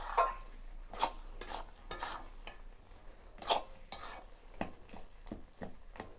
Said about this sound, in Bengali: আর একটু ভালো করে নাড়াচাড়া করে নিতে হবে